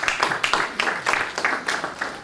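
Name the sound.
audience applause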